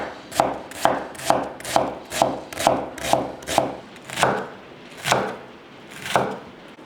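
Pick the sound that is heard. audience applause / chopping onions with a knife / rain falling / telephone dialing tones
chopping onions with a knife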